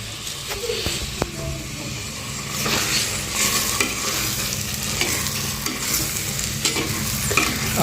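Dhaba-style masala being stirred in a hot pan, a constant frying sizzle with scraping spoon strokes and occasional clinks, close up and fairly steady.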